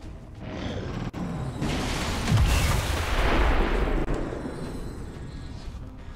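Video game gunfire from a new weapon in XCOM 2, a heavy booming blast that swells into a loud rumbling roar with whooshing tail, then settles into a lingering wash.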